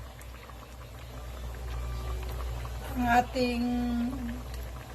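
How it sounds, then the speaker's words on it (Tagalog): A pot of soup simmers and bubbles on the stove in a steady, close boil. Someone speaks briefly over the bubbling. "Ayan na po siya, kumukulo-kulo na."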